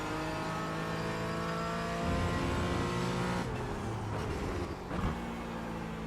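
A race car engine in the iRacing simulator, holding a high steady drone, then dropping pitch through downshifts with brief blips and engine braking before settling again, loud and close with no talk.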